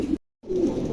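Two pairs of pigeons coo in low, soft murmurs close by, broken by a brief silent gap.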